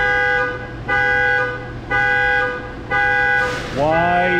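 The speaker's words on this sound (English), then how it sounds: "Why is that car's alarm going off again?" A car alarm sounds loudly nearby, repeating a steady harmonic tone in regular pulses about once per second, then switching to a rising, warbling siren pattern at the end; no talk is heard.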